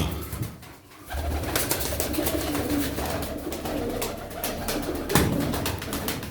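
Tumbler pigeons in a loft cooing and fluttering close by, soft repeated coos over rustling wing and movement noise, with a steady busy background throughout.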